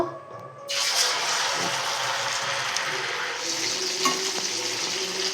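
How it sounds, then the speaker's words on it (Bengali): Chickpea dhoka pieces drop into hot oil and start frying, a steady loud sizzle rising suddenly after a brief quiet start and holding close and continuous. "এবার ধোকাগুলো দিয়ে দেব"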